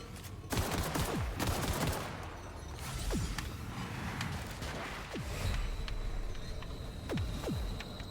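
Bursts of sci-fi gunfire rattle through a firefight in The Outer Worlds, with dense volleys and sharp whizzing shots overlapping under a steady mechanical hum, loud and continuous across the scene.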